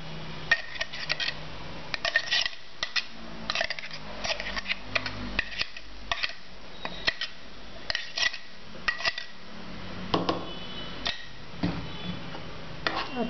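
A spoon stirs green chickpea chutney in a bowl, tapping and scraping the sides in quick, uneven clinks that go on steadily at close range with no voices.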